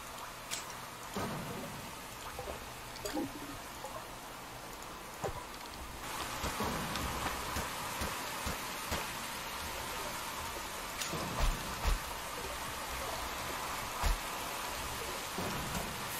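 Rain patters steadily through a thunderstorm in the video game Forager, with several sharp lightning cracks and a deeper thunder rumble rising over the constant downpour.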